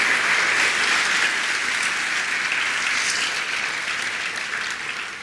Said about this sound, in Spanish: ¿Cuánto le da un aplauso fuerte al Señor?